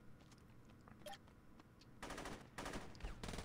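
Saints Row gameplay: faint scattered shots give way to two loud sustained bursts of automatic gunfire from the player's gun.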